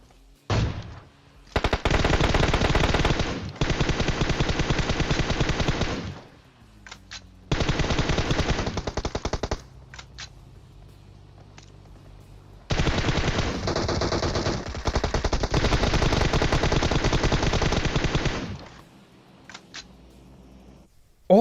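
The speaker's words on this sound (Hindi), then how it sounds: "मैं साइड से खड़े होके गोलियां पेल रहा हूं" Automatic gunfire in the mobile battle royale game PUBG Mobile: several long, loud sustained bursts with short gaps, plus a few brief isolated shots, with no voices over it.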